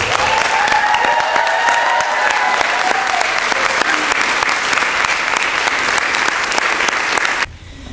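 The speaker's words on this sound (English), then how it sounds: "give our three graduates a hearty round of applause" A standing audience at a special commencement gives three graduates a hearty round of applause, dense sustained clapping that stays loud throughout and then cuts off abruptly near the end.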